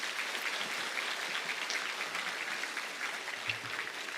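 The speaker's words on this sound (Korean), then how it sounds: "우리 목사님 박수로 모시겠습니다" A church congregation applauds its pastor with steady, moderately distant clapping throughout.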